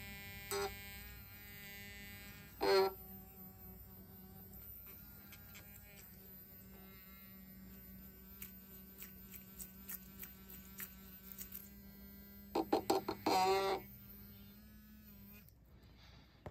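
An old electric toothbrush vibrating while cleaning vintage rings, a faint steady buzzing hum with a few louder rattling bursts as the brush touches the metal, heard alone at low level.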